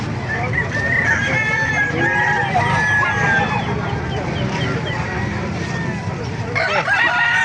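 Several roosters crow over one another in a noisy chicken market yard in Calumpit, Bulacan, with clucking chickens and a voice talking underneath.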